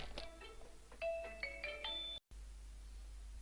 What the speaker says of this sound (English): People ringing the phone at inconvenient times.